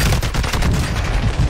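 Gunfire in the Call of Duty Warzone 2.0 video game comes as dense, rapid, loud shots in a continuous burst.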